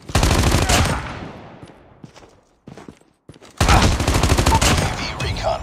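Call of Duty: Mobile match gunfire: loud, close automatic weapon bursts with rapid rattling shots, a short lull with scattered thumps, then another sustained burst.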